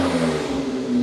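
A tuned family performance car with a Wrench Stage 2 setup, including ECU software, gearbox map and downpipes, holds a steady, throaty engine drone with a strong low hum, loud and close, with no talk.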